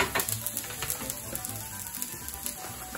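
Garlic and onion frying in oil in a pan, a soft, steady sizzle with faint scraping and clinks from stirring, fairly quiet and close, with no talking.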